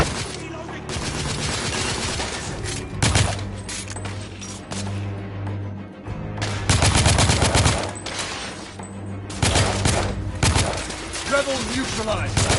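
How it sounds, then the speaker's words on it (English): Heavy gunfire in The Order: 1886, with dense bursts of automatic fire and sharp shots that come in loud waves, separated by brief quieter gaps where the weapons roar eases. "I'm under heavy fire!"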